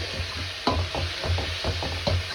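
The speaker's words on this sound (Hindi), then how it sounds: "तड़का तैयार हो रहा है यहाँ पे हमारा धीमी धीमी आंच पे" Tempering spices fry in oil over a low flame, a soft steady sizzle broken by repeated stirring scrapes in an uneven rhythm, close up and with no talking.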